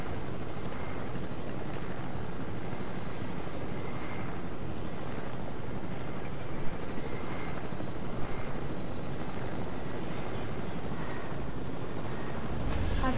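Helicopter in a video game descending toward a landing, a steady whirring rotor and engine drone sustained throughout at even loudness, no talk.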